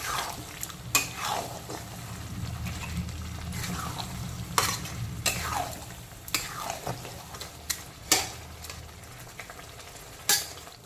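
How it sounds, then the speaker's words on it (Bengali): Mutton being stirred with spices in a pan over low-medium heat for dhaba-style curry: a soft continuous sizzle under repeated scraping strokes of a spoon against the pan, with a few sharper clinks spaced every second or two. "এখন প্রথমে 2-3 মিনিট সময় নিয়ে লো টু মিডিয়াম আছে মাটনটাকে সমস্ত মশলার সঙ্গে মিক্সড করে নেব ভালো মতো"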